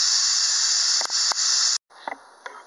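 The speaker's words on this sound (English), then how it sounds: "I'm going to hit the steam release to the right. I'll be back once all the steam come out." Steam hisses steadily out of a Housmile pressure cooker's release valve, a loud, close, high-pitched rush with a few faint clicks, stopping abruptly near the end before some soft sputters.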